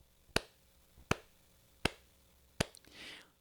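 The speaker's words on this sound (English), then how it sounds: "I just want you to begin lightly clapping them together like this" Four light, sharp hand claps spaced roughly evenly, quiet and close, each a crisp isolated snap followed by a brief soft rustle.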